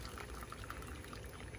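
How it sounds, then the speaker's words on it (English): Boiling water drains off freshly blanched garden broccoli, a soft, steady pouring and trickling splash heard close but quietly, with no talking. "drain off as much of that boiling water as possible"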